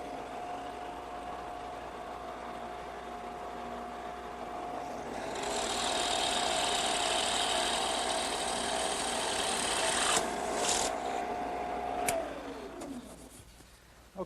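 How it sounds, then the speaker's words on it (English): A steady drill press motor whine runs throughout, rising into a louder grinding buzz midway as a 1-inch bit bores into wood, then spinning down at the end. "I just put a 1-inch bit in my drill press"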